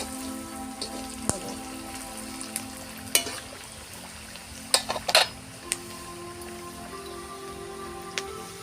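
Onions fry in a pan for a village-style prawn malai curry, giving a steady soft sizzle with occasional sharp clinks and scrapes from stirring, close and fairly quiet, with no voices.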